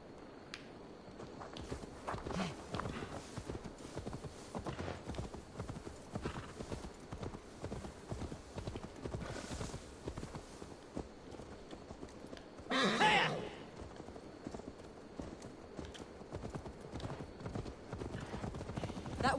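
A horse in Assassin's Creed Valhalla clip-clops at a steady walking pace on the ground, hoofbeats running throughout at moderate loudness, with a brief whinny partway through and quiet game ambience underneath.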